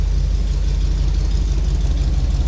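A 1973 Jeep CJ-5 engine idles steadily up close through a new dual exhaust, with a deep, throbbing rumble and no talking.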